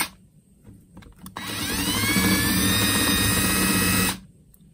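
A power drill spins up and runs steadily for a few seconds while driving a bolt into a drawer pull hole, a close, loud whine that cuts off sharply, preceded by a few light handling clicks.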